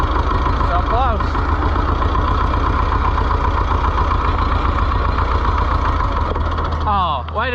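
An Oliver 1355 tractor engine cranks on its first start attempt, a loud, steady, rhythmic mechanical churn that continues throughout, with people talking over it.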